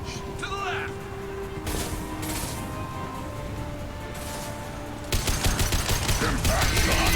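Gunfire in the Mass Effect 2 shooter game: bursts of shots and impacts crackle through the clip, growing denser and louder near the end, under game voices and music.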